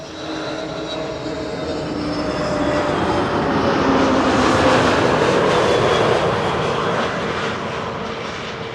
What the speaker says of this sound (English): KM Malta is flying in from Malta